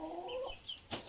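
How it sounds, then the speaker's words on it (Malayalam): A backyard pet chicken gives a few soft, close clucks, then a short sharp squawk near the end, with faint background hiss and no talking. "ഇതാണ് രോഹൻ്റെ കോഴി"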